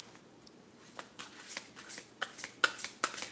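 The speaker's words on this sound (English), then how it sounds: "Let's shuffle for 9 hours." Tarot cards being shuffled, a string of crisp riffling flicks and taps that grow busier and louder toward the end, close by with no talk.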